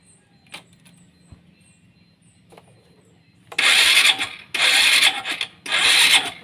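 A Honda Supra X 125 motorcycle that is hard to start, fitted with an aftermarket carburetor, cranks in three loud, close bursts after a few quiet clicks, with each attempt cutting off without the engine catching.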